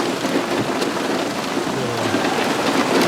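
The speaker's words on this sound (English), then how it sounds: "That was a hell of a crack of thunder that hit us too." Heavy rain pours down steadily outdoors during a thunderstorm beside the Niagara River, a dense close hiss with a low thunder rumble woven underneath.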